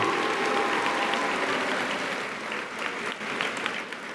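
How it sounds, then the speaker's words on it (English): An audience at a high school awards ceremony applauds steadily for several seconds, a dense, fairly close wash of clapping that thins slightly toward the end. "Let's give them a warm round of applause again."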